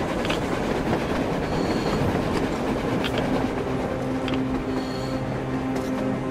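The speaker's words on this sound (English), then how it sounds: "A train! A damn train on the surface!" A train rumbles past in Metro Exodus with steady clattering wheels and occasional metallic squeals, loud and continuous with no voices.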